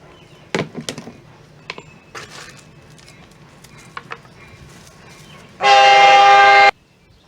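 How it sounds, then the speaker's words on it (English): A passing train's horn sounds in one long, loud, sustained blast near the end, with faint rumbles and scattered knocks of rail traffic before it, heard from a garden. "We had our train come by."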